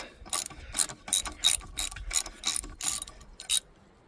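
Ratchet wrench loosens a 9/16 bolt on a Mercruiser Alpha One Gen II drive of a Sea Ray boat, sounding as a steady series of about ten sharp, close ratchet clicks that stop abruptly near the end.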